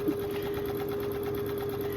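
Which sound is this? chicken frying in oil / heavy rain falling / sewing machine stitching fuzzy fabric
sewing machine stitching fuzzy fabric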